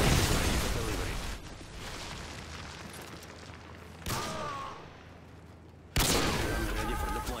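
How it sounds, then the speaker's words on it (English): A Predator missile strike in a video game, with a heavy explosion at the start rolling into a long roar, then two more sudden loud blasts arriving a couple of seconds apart. "Friendly Predator missile inbound."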